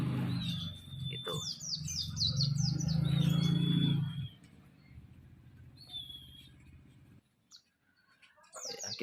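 Pleci white-eye birds chirp in quick high trills and whistled notes, loud at first over a low mechanical hum, then thinning to scattered calls in near quiet.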